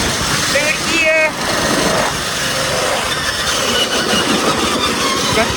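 A homemade racing lawn mower engine revs loud and close in third gear, a buzzing drone with shifting pitch plus wind rush, while voices are heard over it.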